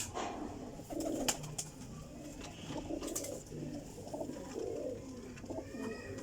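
Pigeons coo repeatedly at close range, soft throaty calls rolling one after another over faint background noise.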